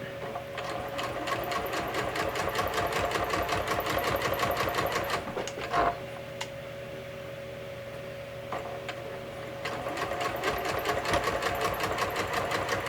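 A sewing machine stitches a hem along wash-away thread in steady, rapid needle rhythm, loud and close, with a brief pause near the middle before the running resumes.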